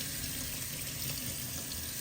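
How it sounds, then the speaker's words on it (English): Canned chickpeas rinsed in a strainer under a running kitchen tap, a steady close hiss of flowing water and pattering without pauses. "I'm going to drain and rinse them"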